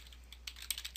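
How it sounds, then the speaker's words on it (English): Keystrokes on a computer keyboard as a web address is typed, a quiet run of light clicks that start sparse and speed into a denser burst of taps, close and alone with no talking. "I'm going to go up to my address bar and type in"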